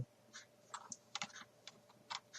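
Rapid keystrokes on a computer keyboard, a quick irregular patter of distinct clicks in short bursts, close and fairly quiet with no talking.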